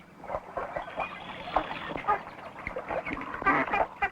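Five-week-old ducklings quack and peep in a busy cluster nearby, a steady stream of soft overlapping calls.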